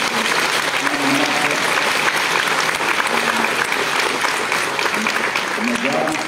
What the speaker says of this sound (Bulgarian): Може за вашите аплодисменти.